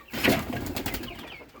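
Pigeons cooing inside a pigeon loft, a soft throaty coo rising near the start followed by further low murmuring calls, close and clear with no talk over them.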